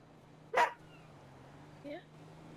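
A puppy gives one short, sharp bark nearby, followed by a fainter little yip a moment later, against a quiet indoor background.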